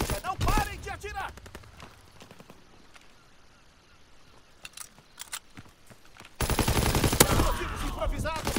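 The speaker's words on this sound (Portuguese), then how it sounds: "Não parem de atirar." Gunfire in the World War II shooter Call of Duty WW2 comes in rapid bursts at the start and again toward the end, with quieter in-game ambience between them and voices talking.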